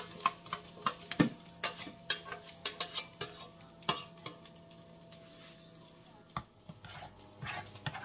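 Lardons fry in a pan as a utensil stirs them, sounding as a steady low sizzle broken by many sharp, close scrapes and clinks at an uneven rhythm.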